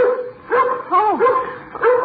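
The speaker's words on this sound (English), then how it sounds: "Ruthie, now you stop your barking now" A small dog in an old radio drama barks several times in quick yapping bursts, close and fairly loud, with short gaps between them and no talking over the barks.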